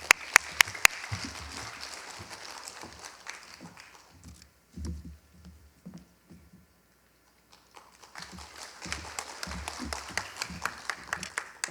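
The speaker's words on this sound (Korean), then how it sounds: "박수 부탁드립니다." Scattered applause from residents gathered at an apartment reconstruction briefing meeting, with sharp claps at the start, a quieter murmuring stretch in the middle, then a renewed wave of clapping toward the end.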